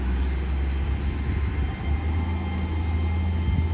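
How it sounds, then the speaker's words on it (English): An IET intercity express train pulls away from the opposite platform at Totnes station. Its heavy, constant low rumble and engine drone stay loud and close throughout. "Now you've got the IET on the opposite side now leaving."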